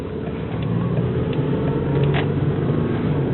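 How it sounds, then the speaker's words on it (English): A Toyota Camry six-cylinder engine runs with a steady, smooth low mechanical hum, close and constant, with faint clicks over the drone and no talking. "it's 6-cylinder, and it really does run pretty good"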